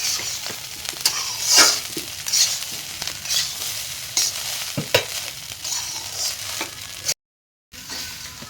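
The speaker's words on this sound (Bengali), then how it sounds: "মা ভাত দিয়ে এখন ভাতগুলি মেশানো হচ্ছে।" Scraping and stirring as rice is mixed into biryani in a wok, with intermittent metallic clinks and a soft sizzle underneath, steady and close, no talking.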